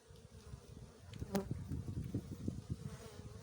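A steady, low buzzing of many honeybees close by on hive frames, a dense droning hum that swells slightly partway through.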